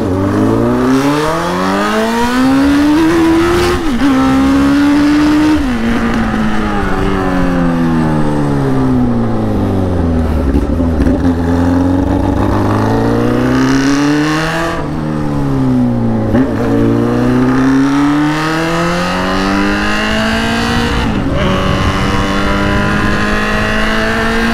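A Honda Fan motorcycle with only a straight exhaust pipe fitted, ridden on the street, revs loud and close with a raw, crackling drone that climbs and falls through repeated throttle blips and gear changes.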